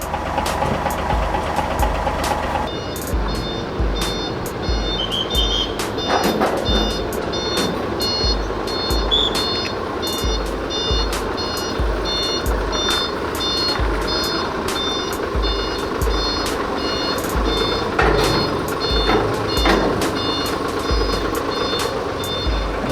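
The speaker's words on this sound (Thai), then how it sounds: "สัญญาณถอยต้องดังเพราะเป็นเรื่องเกี่ยวเรื่องความปลอดภัย" A truck's reversing alarm beeps steadily over a rumbling idling engine, with clanks and mechanical noise throughout.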